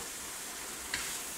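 Marinated chicken fillet, in a yogurt, garlic and thyme marinade, sears in a pan with a steady close sizzle and a brief sharper crackle near the end.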